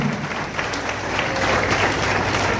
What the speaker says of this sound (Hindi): जोरदार तालियों से सम्मान करें